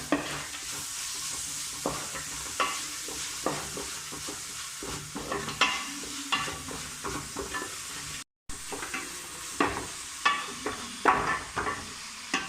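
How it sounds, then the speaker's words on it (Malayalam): Onions fry with salt in a pan for a Kerala-style chicken curry as a spoon stirs them, with repeated scraping strokes over a continuous sizzle and one brief cut to silence partway through. "ഇളക്കി എടുക്കാം."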